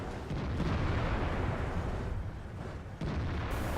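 Tank cannon fire in World of Tanks booms heavily and loud, with a thick rumbling blast filling the sound, a dip, then another sharp burst near the end.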